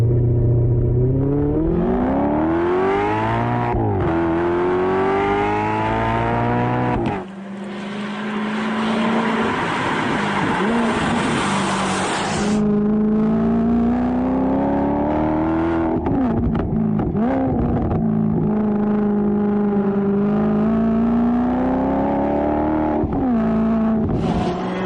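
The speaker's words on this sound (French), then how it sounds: "Maserati avec la version sport de son coupé 2+2 agit sur le moral" A Maserati GranTurismo sport 2+2 coupé engine revs and pulls through rising gears, loud and close, with a gearshift dip midway and a throaty, sustained drone climbing again afterward.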